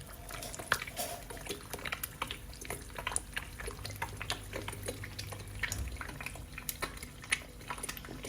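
An egg fries in oil in a tiny pan over low gas, bubbling and crackling steadily with scattered sharp pops and spits, close by, with no one speaking.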